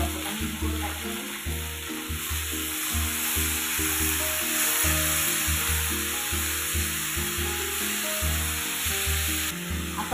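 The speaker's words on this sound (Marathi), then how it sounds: "थोडा फ्राय करून घेऊया" Cluster beans fry in a pan with salt, giving a steady close sizzle and crackle over a faint background hum, with occasional stirring scrapes.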